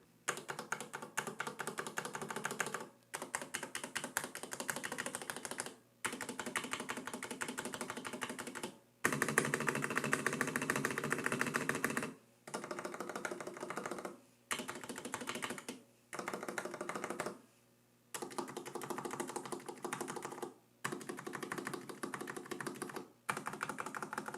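Close, rapid typing on a Leopold FC900R PD mechanical keyboard with red switches comes in dense bursts separated by short pauses, each keystroke clacking with a faint springy rattle.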